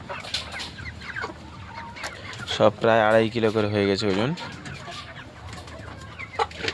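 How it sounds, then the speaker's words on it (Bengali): Tiger-breed chickens on a poultry farm cluck in scattered bursts, with a louder, harmonic squawk or crow in the middle, all heard under steady talk nearby. "কত সুন্দর মুরগি।"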